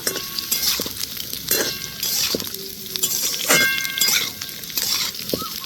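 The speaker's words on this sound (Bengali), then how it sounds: "এর মধ্যে দিয়ে দিব আমি সজনে ডাটা এক দুবার নাড়া দিয়ে নিব" Drumstick stalks stirred into onions frying in oil until light brown, with a steady sizzle and repeated scraping, clinking strokes of a spoon against the pan, fairly close and with no talk.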